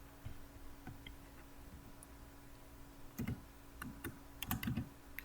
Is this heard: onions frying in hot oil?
no